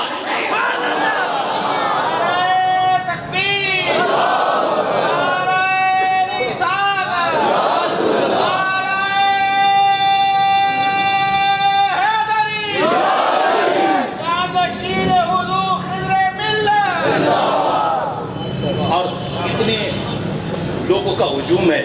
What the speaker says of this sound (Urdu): لوگوں کا ہجوم ہے